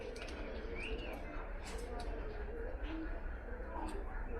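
Pigeons at a pigeon farm in Pabna, including Racers, Lotans and Rajshahi Giribaz, coo and murmur in a steady, dense flock noise with scattered higher chirps, while a voice speaks faintly underneath.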